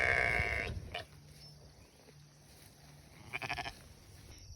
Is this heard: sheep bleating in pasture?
yes